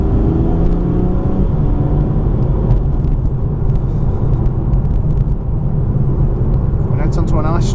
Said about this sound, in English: A little squeeze on the gas now as the road opens up.